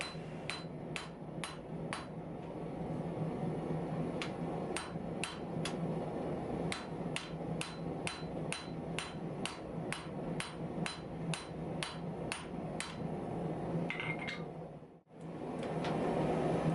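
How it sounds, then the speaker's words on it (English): Steady, rhythmic hammer blows ring out in a fast series as a copper and cable filled canister is forged into knife steel, continuing over a constant background hum with a brief pause near the end. "we're about 15 minutes into the forging process, and so far it's doing really well"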